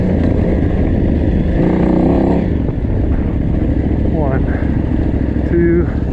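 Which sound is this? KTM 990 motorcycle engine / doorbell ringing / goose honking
KTM 990 motorcycle engine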